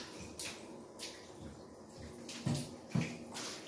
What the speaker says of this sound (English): And then you just rinse with the water.